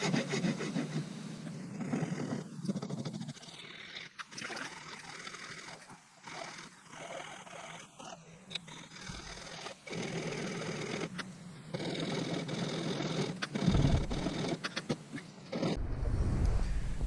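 Steady rasping of a hand rasp on wet, freshly cut wood while shaping a natural-fork slingshot, a close, continuous scraping rhythm broken by a few short pauses.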